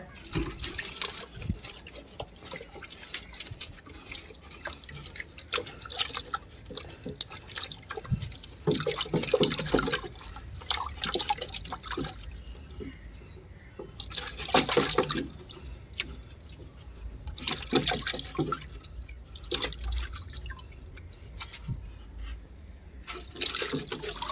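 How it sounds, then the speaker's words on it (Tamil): Harvested elephant foot yams being washed by hand in water, with repeated splashing, sloshing and trickling bursts at close range, loud and irregular, with no talk. "எல்லாத்தையும் கழுவி எடுத்துகிட்டு உடச்சி பார்ப்போங்க"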